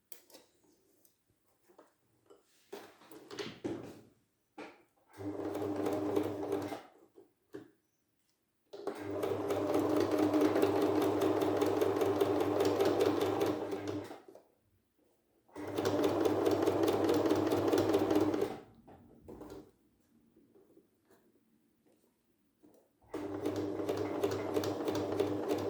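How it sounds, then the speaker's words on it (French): A sewing machine stitches fabric 1 cm from the edge while sewing a protective face mask, running in several long, steady, rapid bursts separated by near-silent pauses. "maintenant nous allons piquer de nouveau à 1 cm du bord"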